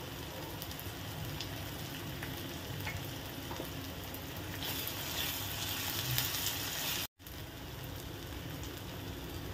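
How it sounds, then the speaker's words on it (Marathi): Tomatoes sauté in a hot pan for street-style egg bhurji, giving a steady, close frying sizzle with light stirring scrapes. It runs throughout, broken by one brief dropout near the end. "टोमॅटो मेल्ट होईपर्यंत परतून घेऊयात।"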